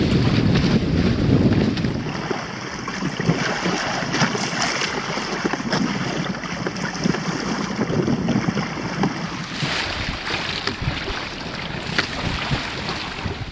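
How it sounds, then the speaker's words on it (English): Steady wind of 10 to 12 knots rushes and buffets across the microphone on a Hobie sailboat, with water and boat noise underneath, continuous throughout and fairly loud. "the breeze has picked up. It's blowing 10, 12 knots"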